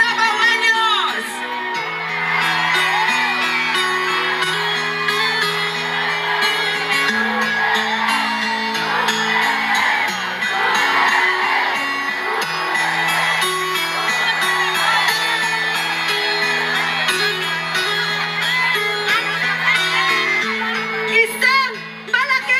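A large crowd at an outdoor political rally in Davao cheers, whoops and shouts continuously, loud and sustained, with voices yelling amid a roar and music-like tones underneath.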